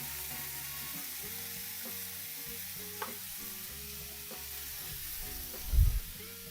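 Burgers frying in a pan, a steady soft sizzle with occasional clicks and a brief louder spatter near the end, fairly quiet and with no talking.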